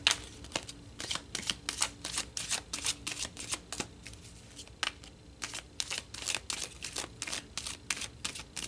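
Tarot cards are shuffled and pulled from the deck, giving a close, quiet stream of rapid papery flicks and snapping riffles that repeat steadily throughout, with no voice.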